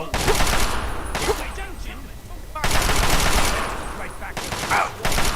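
Gunfire in Fallout 3, loud bursts of rapid automatic shots in several volleys separated by short lulls, with scattered game sounds between them.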